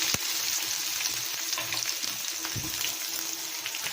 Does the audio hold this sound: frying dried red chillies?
yes